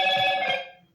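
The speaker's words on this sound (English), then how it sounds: "That's a phone call." A phone rings close by with a bright electronic trill of steady tones, one burst that fades out within about a second, no talk over it.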